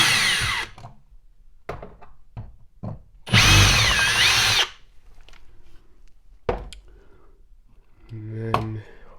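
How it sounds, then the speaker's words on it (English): A power drill backs the screws out of a worn electrical outlet in one close whirring burst of about a second, with a few sharp clicks and handling knocks around it. "And then you're gonna take these screws all the way out."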